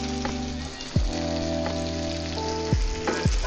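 Tandoori chicken tikka pieces frying in a pot give a steady, close sizzle, broken by a few soft knocks and scrapes as the pieces are turned.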